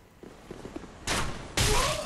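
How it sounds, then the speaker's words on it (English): Two loud, close gunshot blasts from a pistol in Dark Souls 3 PvP, about half a second apart, following a few soft thuds and steps. "Oh, pistol to the chest."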